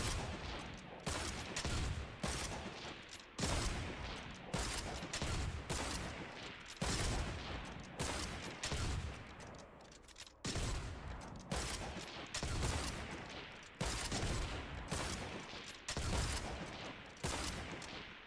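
Shots from the Fortnite sniper rifles Old Betsy and Ralphie's Revenge crack out one after another in a steady, evenly spaced rhythm of loud, sharp blasts. Each report rings briefly before the next, and no one speaks.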